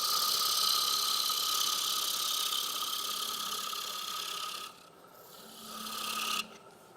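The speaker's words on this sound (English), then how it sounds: "So I'm almost doing a little scrape as I make the entry there." A hand tool scrapes a spinning wooden piece on a lathe at a woodturning demonstration, a steady raspy hiss over the machine's hum that drops away, briefly returns, then cuts off.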